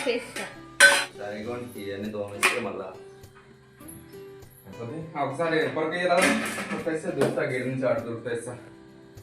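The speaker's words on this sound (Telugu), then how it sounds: "గిన్నెలు పురాతనమైన గిన్నెలు వస్తున్నాయండి పైనుంచి గంగాళం" Old metal pots and vessels, including a large gangalam, clank and scrape as they are handled and set down during house cleaning, with people talking nearby throughout.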